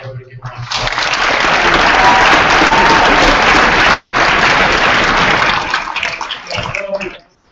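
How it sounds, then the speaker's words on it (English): Loud, sustained applause from an audience at a high school signing announcement for a Vanderbilt commitment, a dense roar of clapping lasting several seconds, briefly cut off near the middle, then resuming and fading out. "I'd like everybody to give him a round of applause."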